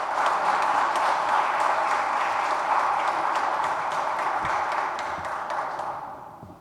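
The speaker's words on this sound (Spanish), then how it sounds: "La recibimos con fuertes palmas, por favor" An audience at a women's gathering on access to justice gives a dense, sustained round of applause, steady and full before tapering off at the end.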